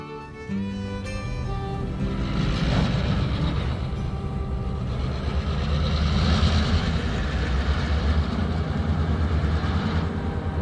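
A Santa Fe freight train rumbles through a busy rail yard on an intermodal line. A heavy low engine drone and rolling wagon noise hold steady at mid distance throughout, with a brief horn-like tonal sound at the start.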